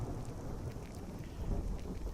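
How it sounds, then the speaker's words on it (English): Steady rain pouring with a low thunder rumble underneath in the video game Skyrim, a continuous dense wash of sound with no voices. "The thunder is happening."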